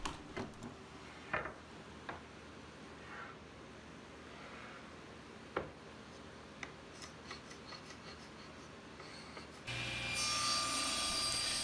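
A glued-up cherry wood bookcase top cut to size: quiet handling clicks and taps first, then a power saw starts near the end with a loud, close, sustained whine.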